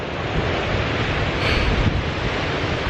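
Surf washes onto a swimming beach on Cozumel in a steady, loud wash of breaking waves, with wind buffeting the microphone throughout.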